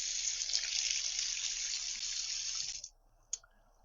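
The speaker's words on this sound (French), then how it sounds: "L'eau froide, je vais mettre." Cold water runs from a kitchen tap in a strong, steady close-up gush for about three seconds, then cuts off, leaving a brief drip or clink.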